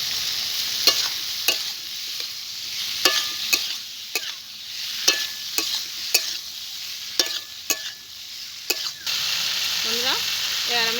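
Wheat-flour pasta is stirred into a sizzling masala with ketchup in a pan. Sharp, regular clacks of a spatula hitting the pan ring out over a soft sizzle, then a steadier, louder frying hiss takes over near the end.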